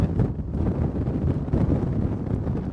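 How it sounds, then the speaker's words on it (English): Strong gusting wind with rain at a mountain wildfire roars as a loud, continuous buffeting rush against the microphone, unbroken for a few seconds, with no voices. "the gusting wind seems to be gusting stronger over the last couple minutes to come with the rain"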